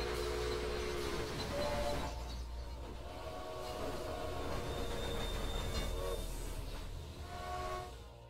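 Trains rumble in the Railway Empire game, with a faint, continuous rolling drone, squealing wheels and soft clatter, kept low and steady throughout.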